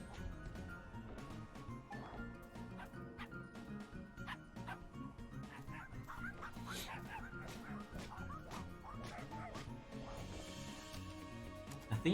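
A dog barks, yips and whimpers in short repeated bursts inside the video game Finding Paradise, set against soft game music with no one talking.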